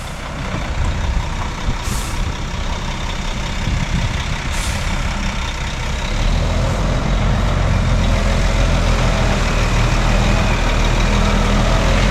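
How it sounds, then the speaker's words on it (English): Concrete mixer truck pulling away from a sidewalk pour site: loud, continuous diesel rumble that builds and deepens midway as the engine works, with a couple of brief air-brake hisses early on and no voices. "the concrete truck driver's all cleaned up, and he's on his way"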